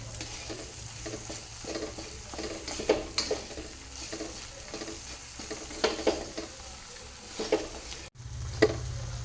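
Spatula scrapes and stirs through paneer bhurji sizzling in a pan, with repeated rhythmic strokes over a steady frying hiss, close up.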